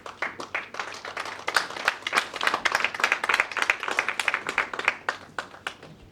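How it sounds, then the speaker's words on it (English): A conference audience at a plenary session gives the panel a round of applause, a light patter of many hands clapping at moderate distance, fairly soft and fading slightly toward the end. "A round of applause for all of them"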